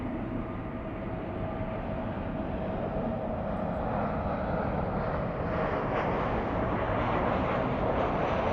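An airliner powering up for takeoff on a runway at Los Angeles, a continuous broad roaring engine rumble that holds steady and swells slightly over several seconds, heard from a distance with no voices.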